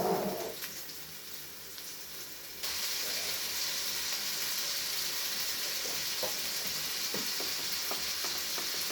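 Onion and garlic fry in a pan, a steady broadband sizzle that jumps louder partway through and then holds close and continuous, with faint stirring scrapes, for an easy breakfast.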